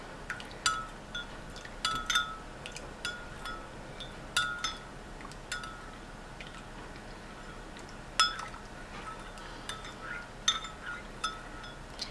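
A spoon clinks lightly against a cup while ashwagandha tea is stirred, a scattering of faint, sharp taps at irregular intervals over a quiet background.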